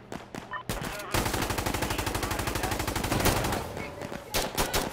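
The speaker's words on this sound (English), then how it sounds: "Minigun support coming in." Rapid, sustained minigun fire in a military shooter video game, a dense rattling stream of shots running for several seconds, loud and close, with brief bursts and game sounds around it.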